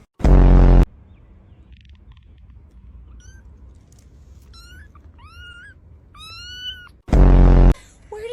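Several black cats meow in a run of rising, bent calls, fairly close and moderately loud, between two loud bursts of some other noise at the start and end.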